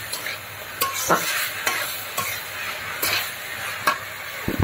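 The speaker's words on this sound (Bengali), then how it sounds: "শাক শেষের দিকে আস্তে জালে ভাজতে হয়, ভাজলে খুব সুন্দর হয়।" Malabar spinach greens fry in a pan over low heat. A soft continuous sizzle runs under repeated scraping stirs from a spatula about once a second, close by, with no one talking.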